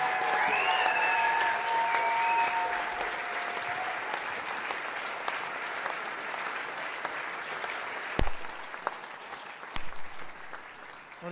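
An awards-show audience at the International Folk Music Awards applauds. The clapping is sustained and moderately loud, with a brief whoop or whistle early on, then thins out into scattered claps and a few sharp knocks near the end.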